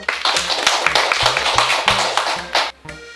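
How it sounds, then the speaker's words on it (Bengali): An audience at a political gathering claps in a quick burst of scattered applause to welcome a leader, with a low hum underneath. "শাহজালাল ভাইয়ের জন্য একটু সবাই করতালি হোক"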